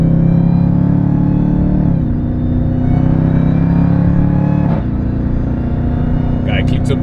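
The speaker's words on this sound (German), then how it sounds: "wie der Kompressor immer so ein kleines Jaulen immer noch mit abgibt" Jeep Grand Cherokee Trackhawk, a 710 PS supercharged SUV in track mode, heard from inside with a loud, steady engine drone carrying a faint supercharger whine that dips briefly at gear changes.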